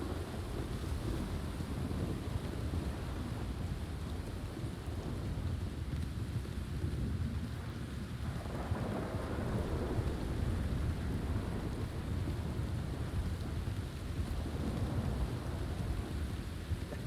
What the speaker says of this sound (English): The storm could go fuck itself.